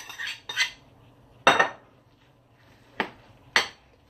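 A spoon clinks and scrapes against a bowl while mixing a banana granola bar batter with carrots, five or six separate close knocks spaced irregularly with quiet gaps between.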